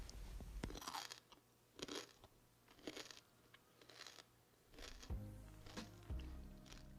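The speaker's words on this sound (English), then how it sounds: "I know you heard the crunch" Crispy fried red snapper crunched between the teeth, a series of loud, close bites and chewing crackles repeating roughly every second, with no talk.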